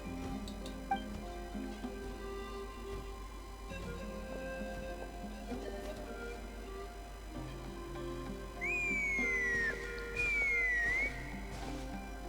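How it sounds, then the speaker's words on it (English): A loud, sliding two-note whistle in Genshin Impact rings out near the end, over a low hum and soft ambient game music. "It's quite a loud whistle."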